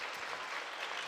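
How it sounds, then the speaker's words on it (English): Crowd applauding in a gym at a Centralia at Shelton basketball game, a steady, dense wash of clapping from many hands throughout, moderately distant, with no talk over it. "gets a nice hand from the crowd"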